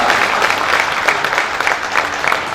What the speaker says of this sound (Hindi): गड़गड़ाती तालियों से मंच पर स्वागत कीजिए